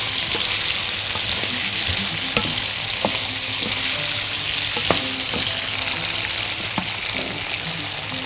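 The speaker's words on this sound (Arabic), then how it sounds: "هحط الزعتر وهنقلب كله مع بعض" Potatoes and mixed vegetables with thyme sizzle steadily in a frying pan, with occasional spoon scrapes and clinks as they are stirred, all close and fairly loud.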